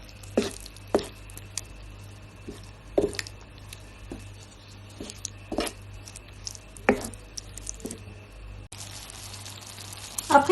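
A spoon stirs thick tomato paste, harissa and spices in a pan with wet, squishy scrapes coming at uneven intervals over a low steady hum, close by.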